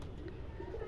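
Red Shirazi pigeon cooing close by in a soft, low, continuous murmur, a steady throaty coo lasting under a second with no talk over it.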